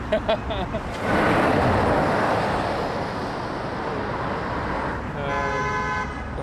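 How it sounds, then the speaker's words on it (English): Car horns toot and honk on a busy city street in Aberdeen during a street art festival, short horn blasts over steady traffic rumble and crowd noise, with a longer tonal honk near the end. "people are honking and everything"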